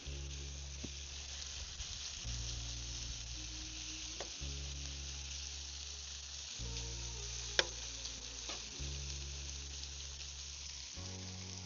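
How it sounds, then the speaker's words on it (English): Crayfish meat cooks in butter in a hot pan outdoors, giving a soft, constant sizzling hiss over a low droning hum, with a few faint clinks scattered through. "Looks like she's sizzling, and we'll chuck her all on there"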